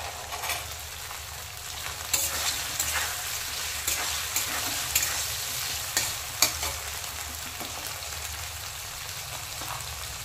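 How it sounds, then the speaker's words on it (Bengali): Green peas are stirred into spice paste frying in a wok, with a steady sizzle broken by scraping strokes of the spatula and occasional sharper knocks against the pan. "মশলাটা 1 মিনিটের মতো ভালো করে নাড়তে হবে। এতে এবার আমি কড়াইশুঁটি দিয়ে দেব।"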